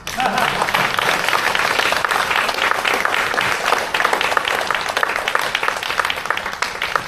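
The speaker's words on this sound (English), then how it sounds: "Let's give him another round of applause" Sustained, loud applause from a crowd at a volunteer appreciation event for a community emergency response team, an even wash of many clapping hands without a break.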